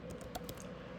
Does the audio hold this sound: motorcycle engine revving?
no